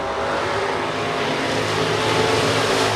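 Stock cars racing at the US 30 Speedway, a steady loud roar of several engines at full throttle that holds without a break and swells slightly toward the end.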